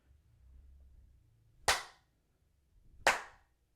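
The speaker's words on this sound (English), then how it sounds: "we will do a little clap here" Two sharp, loud percussive claps stand alone against near silence, spaced about a second and a half apart, the first preceded by faint low rumble.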